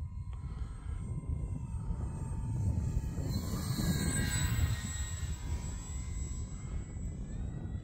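A model Arrows Bearcat warbird flying at a field, its steady engine drone holding at moderate distance and swelling slightly mid-pass, with wind noise underneath and no one talking.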